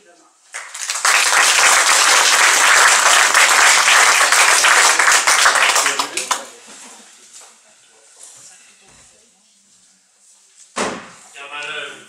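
An audience breaks into dense, sustained applause to welcome a speaker at a talk at the VHS Mönchengladbach. The loud clapping lasts about five seconds, then fades to a quieter room with scattered sounds and a brief voice near the end.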